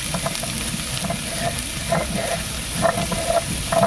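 Pieces of sweet pumpkin sizzle steadily in hot oil over whole-spice tempering, with irregular scraping stir strokes of a spatula in the pan, close and continuous, no talk.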